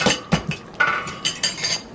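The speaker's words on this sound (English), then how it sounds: "Now I'm gonna come and add my carrots, my yautia, my potatoes, my onions." Carrots, yautia, potatoes and onions tumble into a pot for beef soup, giving a run of close clinks and knocks of vegetable pieces against metal and utensil, irregular and bright.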